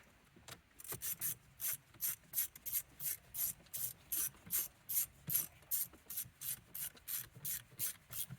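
A hand ratchet clicks steadily in fast, even strokes, tightening a T30 Torx bolt on the steering wheel of a 2006-2013 Mercedes S-Class W221. The clicking is close and fairly quiet, with no talk.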